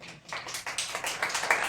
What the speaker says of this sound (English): Let's give Deborah a round of applause.